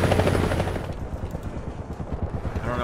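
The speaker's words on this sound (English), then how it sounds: "A helicopter, of course," Helicopter in the War Thunder video game, a steady rotor chop and engine roar that stays loud and continuous throughout, with rapid rhythmic thumping that suggests gunfire mixed in.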